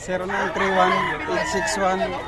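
Roosters crow loudly and up close at a busy chicken market in Bocaue, with long, drawn-out calls that overlap one another and continue through the whole stretch.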